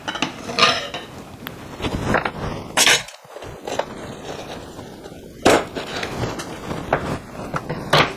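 A cleaver chops through the neck of a crispy roast Peking duck, several sharp cracking thwacks of blade on bone and board spaced irregularly, close and loud.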